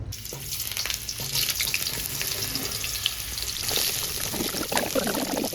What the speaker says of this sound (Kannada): ಸೊ ಇವಾಗ ನಾವು ಈ ಹಾಗಲಕಾಯಿನ ಎಣ್ಣೆಗೆ ಹಾಕ್ಕೊಳ್ಳೋಣ.